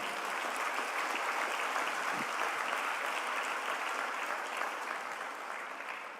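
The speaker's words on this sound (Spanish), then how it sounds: "denle un aplauso a Cristo Jesús en este momento." A church congregation claps together in a continuous wash of applause, steady and moderately distant, thinning slightly toward the end.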